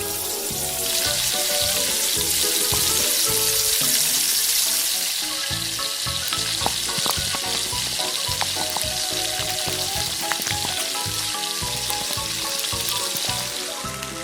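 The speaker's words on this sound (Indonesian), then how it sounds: "Goreng daging katak." Frog meat fries in a hot pan, a loud, steady sizzle with dense crackling and spattering that runs throughout, close up and with no voices.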